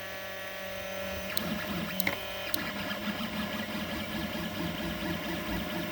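A Creality CR-100 3D printer runs a print job at 200 degrees Celsius, giving a steady close mechanical whir with stepper-motor tones and a few sharp clicks near the start.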